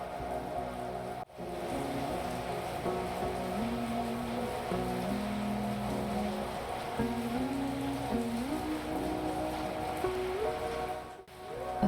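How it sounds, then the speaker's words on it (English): Soft, steady rain patter against a window on a foggy day, a continuous gentle wash of droplets with a faint low tonal hum drifting underneath, calm and unbroken. "The soft rhythm of rain against the window gently eases Lily into wakefulness."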